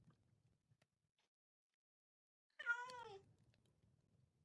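A real house cat gives a single clear, mid-loud meow lasting about half a second, rising then falling in pitch, against a quiet room with faint low background hum.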